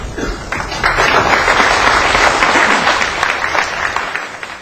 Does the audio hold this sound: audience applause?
yes